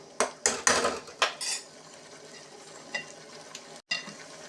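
Metal spoon scraping and clanking against a pan while masala is stirred and cooked in oil for an egg dish, several sharp knocks early then a soft sizzle underneath, close by with no talk.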